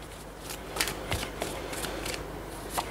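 Tarot cards are handled and drawn for a reading, with several soft, papery flicks and slides spaced irregularly over a quiet background.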